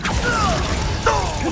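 An Accio summoning spell is cast in the Hogwarts Legacy video game, giving two loud, close whooshing, sweeping magical effects with a mechanical click over a steady game background.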